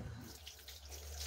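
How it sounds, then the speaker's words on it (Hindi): Tap water runs into a sink while hands are washed, a soft, steady hiss and splash, faint and brief with no voices. "हाथ धोते"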